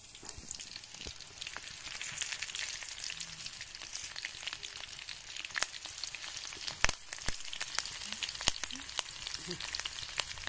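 Fish frying in a pan for a Konkan village-style fish curry, a steady broadband sizzle with scattered crackles and pops, continuous and close throughout.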